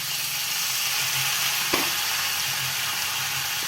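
Ground ginger, garlic and dried chili paste fries in a pan for a fish roe dish, a dense even sizzle close up, with one brief clink of a utensil midway.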